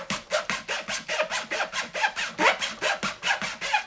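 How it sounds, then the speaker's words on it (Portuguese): Hand saw cutting shallow grooves across the spine of a stacked notebook for binding, a steady back-and-forth rasping of about a dozen quick, even strokes, close and fairly loud with no voices. "Então vamos serrar aqui, ó."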